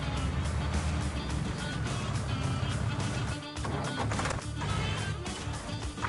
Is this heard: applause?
no